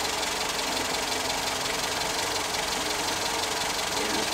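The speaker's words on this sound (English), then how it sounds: "it's shaking a bit, but that's just how these engines are when they're not warm." A cold Toyota 4K engine in a Starlet KP61 idles with a steady, even mechanical clatter and hum, close and constant without any speech.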